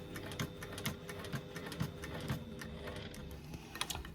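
A sewing machine stitches back over a bag strap to reinforce it, giving a quiet, fast rhythmic clatter of regular needle strokes with no voices.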